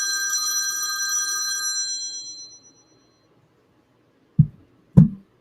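A phone rings unexpectedly with a bright electronic ringtone that sounds for about two seconds and fades out, followed after a pause by two dull knocks or bumps close by.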